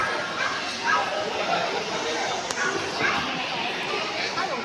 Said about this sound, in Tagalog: Iba't ibang aso.